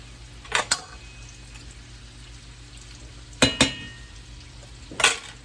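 Gnocchi and garlic sautéing in a frying pan give a low, steady sizzle, broken by three sharp bursts of stirring and scraping, close and clear with no voices.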